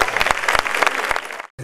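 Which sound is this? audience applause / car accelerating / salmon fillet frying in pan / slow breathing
audience applause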